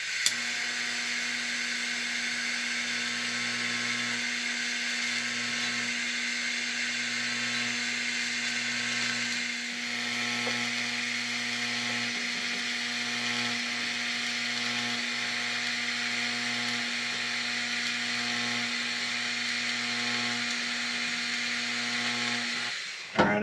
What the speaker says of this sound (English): I actually welded this one a little further, but it was going nice and smooth